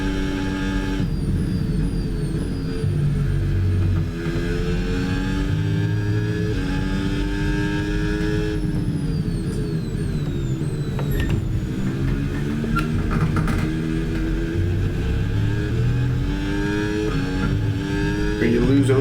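A Formula 1 car in the F1 26 racing game, Max Verstappen's machine, whining through rising and falling engine pitches as it closes in and passes at Silverstone, layered among other car engines while a voice talks over it.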